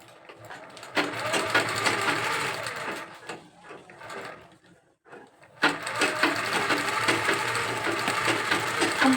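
A sewing machine stitches fabric in two bursts of rapid, even mechanical chatter, close and clear, separated by a brief pause.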